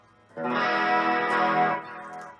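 Clean electric guitar with a soft, low-distortion, soothing effects sound, played as a lesson for the worship song Power; a single sustained strummed chord rings out with lush chorus and echo, then fades.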